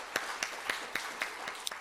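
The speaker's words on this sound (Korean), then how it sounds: "주시죠. 영광의 박수" Claps in a church congregation fall in a slow, sparse rhythm, about seven distinct hand claps spaced evenly and fairly faint, with no talk over them.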